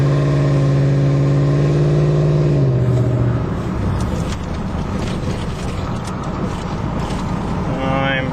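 Pickup truck rolling slowly through a residential neighborhood at about 20 mph, a steady low engine hum and road rumble from inside the cab, with a brief rising rev near the end.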